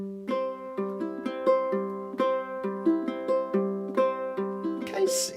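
Ragtime-style fingerpicked pattern on a low G ukulele, steady plucked notes with a bouncing alternating bass, played alone and close, ending in a brief rustle.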